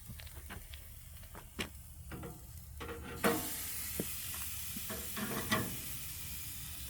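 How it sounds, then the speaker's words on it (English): Fish sears on a hot grill grate with a soft, steady sizzle, punctuated by scattered crackles and pops that grow brighter partway through, heard close and without talk. "Just a quick little sear on this fish."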